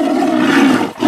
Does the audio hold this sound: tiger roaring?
yes